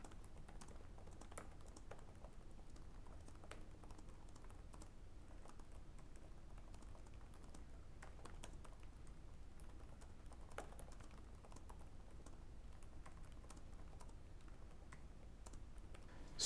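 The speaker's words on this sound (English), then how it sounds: "I'm going to start off with a typing test so you guys can know how the keyboard feels to me" Typing on a Surface Laptop Go keyboard produces a quiet, steady patter of key clicks, close up and continuous, with no voices.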